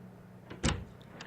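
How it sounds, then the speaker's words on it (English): A door opening in the visual novel Chaos;Child, a short mechanical slide and thump midway through, followed by a smaller click, against a quiet background. "I opened the door to Nono's room to tell Arimura it was time to go"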